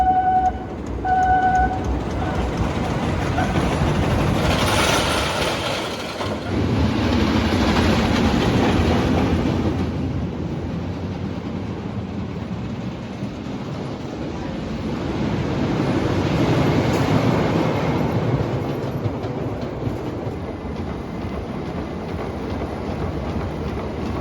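An Intamin Regina II wooden coaster train with new Millennium Flyer cars climbs its lift hill, a steady mechanical clatter and rolling rumble that swells and fades over a long stretch, heard alone without talk.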